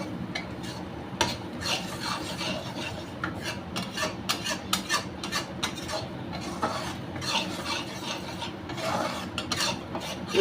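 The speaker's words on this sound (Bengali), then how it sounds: "এইদিকে বেসনটা নাড়ছি একদম ফাস্ট।" Besan (gram flour) stirred fast in a pan for besan halua: continuous rapid scraping and rasping of a spoon against the pan, close and busy, with uneven rhythmic strokes and no talk.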